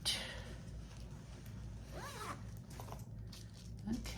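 A zipper on a small zippered pouch is pulled in one short quick zip, close and fairly quiet, with soft rustling around it.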